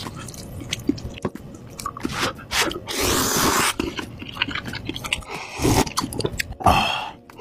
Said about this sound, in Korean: 바로 먹을게요